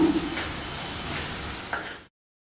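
Tamarind juice hitting red gongura leaves in a hot pan, a steady loud sizzle and hiss that holds evenly before cutting off abruptly.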